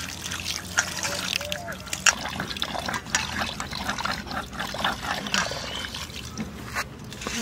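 Fish is rinsed by hand in water in a village-style kitchen, giving continuous close trickling and splashing with small sloshes throughout.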